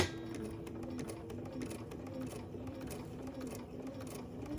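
Sewing machine stitching across a wallet's interior, its needle running in a fast, even mechanical chatter throughout, close and moderately quiet.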